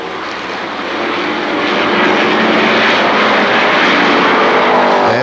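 Race cars thunder past at the Kil Kare Speedway Labor Day Championships, a loud, dense engine roar building over the first seconds and holding steady as the pack passes close by.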